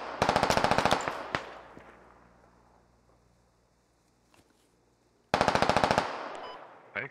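Machine gun fire in the tactical shooter Squad: two sustained automatic bursts of rapid, evenly spaced shots, loud and close, separated by a long fading echo tail and a faint distant crack, with no talk over it.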